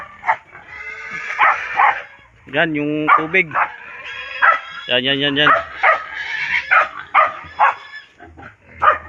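Dogs on a rural provincial farm bark in several sharp bursts close by, mixed with someone talking throughout.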